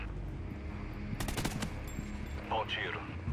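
Gunfire in the Call of Duty Ghosts video game comes as a short burst of sharp, rapid shots over a low rumbling game background, with a little speech and other effects nearby.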